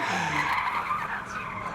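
Drift car tires skid and squeal during a D1NZ Pro Championship qualifying run in Wellington, a sustained rough screech with engine noise, heard from a distance.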